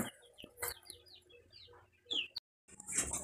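Silkie chickens in a coop cluck and chirp in short repeated calls, fairly close and clear, with a brief full silence before the clucking resumes.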